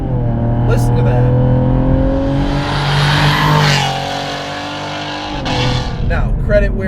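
A 520 WHP Renick Performance Cadillac ATS-V with a turbocharged engine revs up and falls back, a loud close engine note that rises and then drops away, with someone talking over it.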